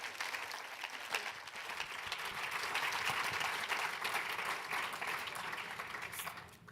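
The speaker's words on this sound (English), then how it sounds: "please, a big round of applause." A conference audience in Vienna gives a big round of applause for a speaker at a symposium, filling the room with dense clapping that swells in the middle and then fades out toward the end.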